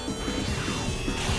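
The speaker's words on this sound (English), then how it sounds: "A smashing blow. That dealt some massive damage." Pokémon attack in Pokémon Battle Revolution lands with a dense, crunchy smash of layered mechanical clatter, continuous and loud over a short burst.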